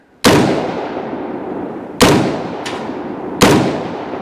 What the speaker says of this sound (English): Shooting at the bag.